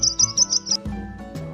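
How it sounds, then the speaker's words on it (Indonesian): A bird chirps in a children's animal learning lesson, five quick bright tweets in an even rhythm followed by soft tonal notes, clear and close with no talking. "Ini dia, burung."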